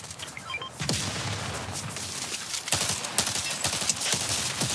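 Gunshots in Fortnite ring out as a sharp initial crack followed by a rapid string of nearby shots and impacts, with no one talking.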